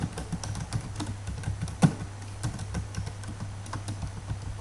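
Steady typing on a computer keyboard: a dense run of quick, light clicks with one louder keystroke, close by, over a low constant hum and no talk.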